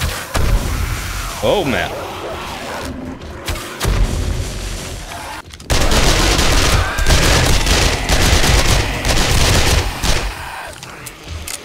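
Rapid 9mm gunfire in the zombie survival game 7 Days To Die during a holiday horde night, loud dense bursts of shots with booming impacts, pausing briefly then resuming, with a voice briefly exclaiming over the noise.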